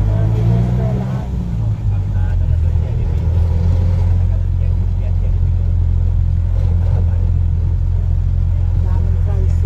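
Motorized tricycles rumble through busy street traffic near an elementary school, a steady low engine drone close by with people talking over it.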